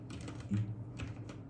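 Computer keyboard typing of code for a Python if-elif-else lesson, a quick run of soft, close key clicks with a few firmer taps, no voice over it.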